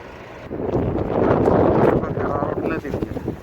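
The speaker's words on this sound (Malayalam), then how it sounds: "രാവിലെ തന്നെ കാറ്റാണ്, അത് തണുത്ത കാറ്റ്" Cool morning wind sweeps across a beach on the Jeddah Corniche, buffeting the microphone in loud, rumbling gusts that swell and ease over a few seconds.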